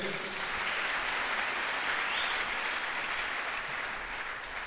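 Church congregation applauding together, a steady, sustained wash of clapping from a crowd that holds fairly even throughout, with faint voices mixed in beneath it.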